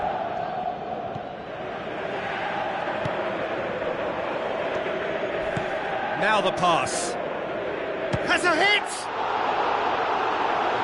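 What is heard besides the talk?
stadium crowd reacting in football video game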